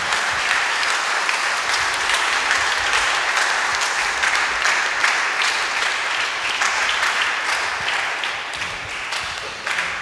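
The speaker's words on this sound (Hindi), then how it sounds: "आइए हम लोग ताली के साथ उन दोनों को नए जीवन के लिए बधाई और शुभकामनाएं दें" A wedding congregation applauds the newly married couple, a steady, dense burst of clapping from many hands filling the room for about ten seconds and slowly tapering toward the end.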